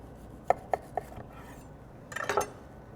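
A knife cuts through a bacon mushroom Swiss burger made with quarter-pound patties. Three sharp clicks come close together, then a brief cluster of crunchy scraping cuts near the end, all close and faint against a quiet room.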